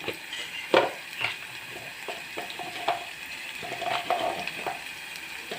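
Ingredients sizzle and fry in a pan, a soft steady crackle broken by sharper spits and pops and the occasional scrape of stirring, heard close with no talking.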